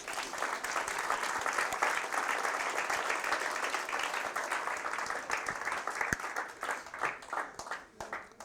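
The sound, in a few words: congregation applauding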